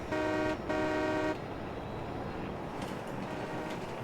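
A train horn in the Farming Simulator 22 video game gives two loud, steady toots, the second longer and following a short gap, and then low rumbling ambience carries on.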